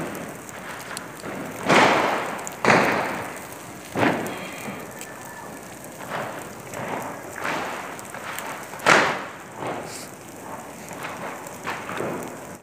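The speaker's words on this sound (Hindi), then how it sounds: "आतिशबाजी हो रही थी और साथ में फायरिंग भी हो रही थी।" Distant New Year's night fireworks mixed with celebratory gunfire: repeated irregular bangs and crackling bursts over a steady outdoor hiss, rolling on for several seconds with no talking.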